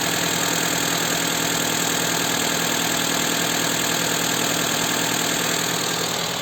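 A Mitsubishi Outlander J11 petrol engine idles steadily, a constant low rumble with a faint rhythmic knock, close by and uninterrupted, with no voices.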